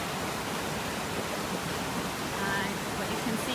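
Silty glacial meltwater of the White River rushing steadily, a broad even roar close by with a faint voice briefly over it.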